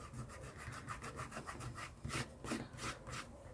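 A finger rubbing glue off a Christmas card: quiet, close, rhythmic scrubbing strokes in quick repeated bursts, growing slightly firmer near the end.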